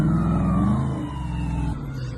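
A siren wails with a slowly falling tone over a rumbling engine, loud and close, with no voices.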